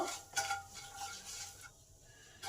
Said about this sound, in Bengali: জিরেটাকেও কয়েক সেকেন্ড ভালো করে ভেজে নেব।